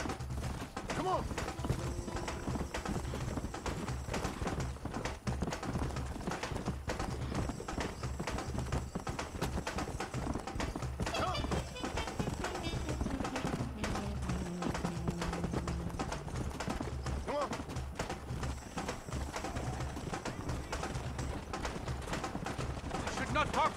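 Steady galloping hoofbeats of a horse in the Red Dead Redemption video game, continuous rapid clip-clop under game music, with a voice briefly talking over it.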